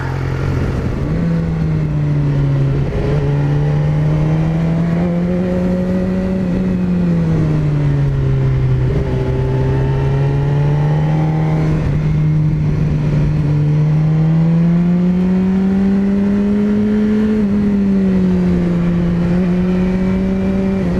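A BMW S1000RR sport bike engine revs continuously while riding through bends, its loud, close note rising and falling smoothly with the throttle and no talking over it.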